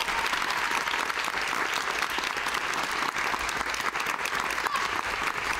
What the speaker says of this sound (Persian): تشویقشون کنیم